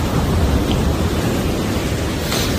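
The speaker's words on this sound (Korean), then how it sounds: "파도는 참 좋은데 하늘은 시커멓고 비가 와요." At Geojin beach on a dark morning, loud rain and breaking waves combine into a dense, continuous roar close by with no voices.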